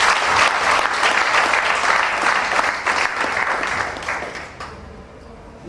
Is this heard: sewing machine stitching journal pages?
no